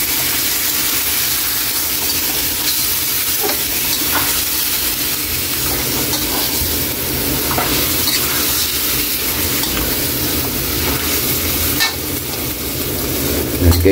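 Pork sinigang stirred in a pot, a steady scraping swish over a constant sizzling hiss that runs for the whole stretch without any voices.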